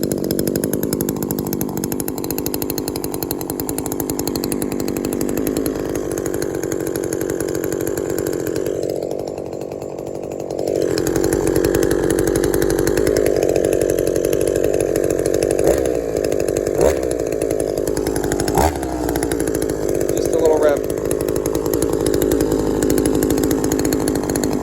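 A Shindaiwa 22T two-stroke engine fires up and settles into a steady buzzing idle, close and loud, with a brief drop in pitch partway through and a few small clicks over the running drone.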